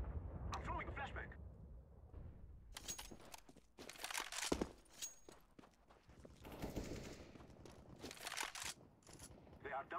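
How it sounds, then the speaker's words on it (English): Gunfire and grenade blasts from Counter-Strike: Global Offensive crackle in bursts, several loud broadband bangs and rattling volleys spread across the stretch, while a voice talks over the action. "I'm throwing a flashbang."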